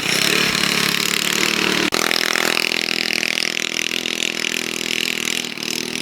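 A go-kart engine running low on fuel drones steadily at high revs, loud and close, with a brief sharp dropout near two seconds, then keeps buzzing with a slight sag near the end.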